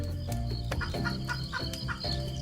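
Game chickens clucking in the primitive village simulator A Modest Village, a steady run of short repeated clucks over a continuous low ambient hum, close and fairly loud.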